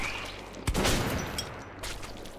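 Gunfire in the Metro video game: a single sharp shot cracks out, then a softer second burst follows, set over a low steady background hum.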